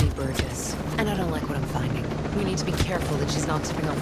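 A helicopter in the video game Ghost Recon Breakpoint, its rotor drone running steadily under sharp gunfire-like bursts and game effects, with someone talking over it.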